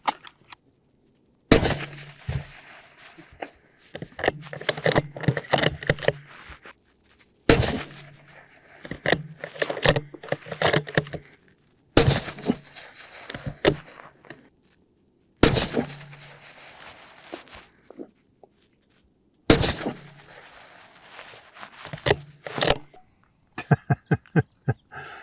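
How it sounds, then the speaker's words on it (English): Five rifle shots fired one by one at 500-yard targets, each a loud, sharp crack with a long rolling echo, separated by several seconds of quiet. "Dale, go ahead, hold center, and give me 5 good shots"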